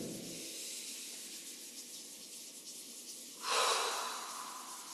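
Palms rubbing together alongside slow breathing, a steady soft hiss through the first few seconds, then a louder, brighter rushing breath near the end; close and quiet, with no talking.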